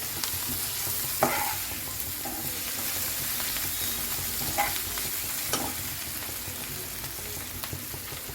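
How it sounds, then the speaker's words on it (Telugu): Egg noodle mixture being stirred with salt in a hot pan, a steady soft sizzle with occasional scraping clinks of the spoon, close and fairly quiet, with no talk. "కొద్దిగా కలుపుదాం."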